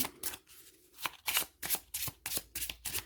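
A deck of 54 playing cards riffled and shuffled by hand at close range, a series of quick crisp flutters and slaps in a steady rhythm, with no voices.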